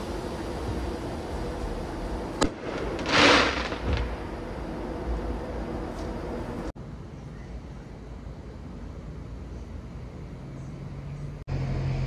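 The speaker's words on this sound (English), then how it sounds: "Somebody lit a firework off." A single firework bursts with a sharp, broadband crack over the steady outdoor hum of a hot rod car event at a drag raceway, followed by continuous background rumble.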